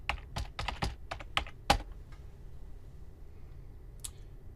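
A password is typed on a computer keyboard in a quick close burst of keystrokes, then the room goes quiet apart from one last click, with no talking.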